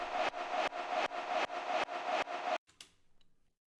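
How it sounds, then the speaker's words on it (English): A punchy kick drum with automated reverb hits in an even pulse, about seven sharp broadband thumps, then stops and leaves a fluttering reverb tail that fades out. "We're just applying some reverb over here"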